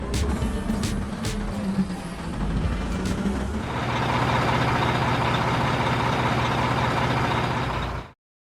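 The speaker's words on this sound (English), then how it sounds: "Dump trucks have a rear bed that can be lifted and the contents dumped at the destination." Dump truck operating, an engine idling and rumbling with a few sharp tones early, then a louder sustained engine roar that cuts off at the end.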